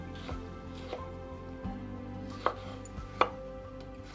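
A knife cuts a tomato into cubes on a cutting board for wok fried rice, giving sparse, crisp taps at an irregular pace, close and fairly quiet, with no talk.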